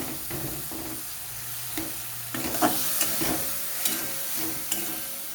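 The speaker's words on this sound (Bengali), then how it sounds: "মশলাটাকে কষিয়ে একটু গলিয়ে নেবো" Spice paste sizzling in a pan with a little water while being stirred for a vegetarian chana dal, steady frying hiss with periodic scraping strokes of the spoon, close and moderately loud.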